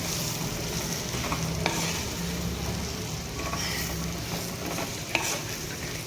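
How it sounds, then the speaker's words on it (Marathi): Mixed vegetables and beans for Maharashtrian bhogi bhaji sizzle steadily in a pan, a dense even hiss with a few soft scrapes and taps as a spoon stirs them, close and continuous. "भाज्या व्यवस्थित एकदम मिक्स करून घेऊया"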